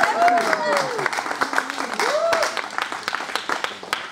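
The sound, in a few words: audience clapping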